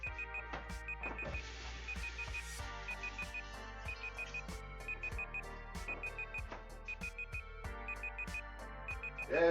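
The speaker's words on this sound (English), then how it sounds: "That is the alarm." An alarm rings in repeated short bursts of bright beeping at a steady rhythm, with clattering kitchen sounds and knocks in between, close and moderately loud.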